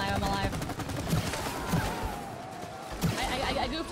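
Gunfire in the It Takes Two video game aimed at a chain, bursts of shots within busy game sound and music, mixed with people talking.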